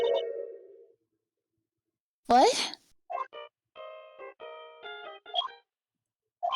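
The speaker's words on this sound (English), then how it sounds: "I know that song your phone plays when it rings." Short electronic phone ringtone of the Steel Samurai theme from an Ace Attorney video game, a few clipped melodic beeps in a quiet scene, with brief game voice blips before and after.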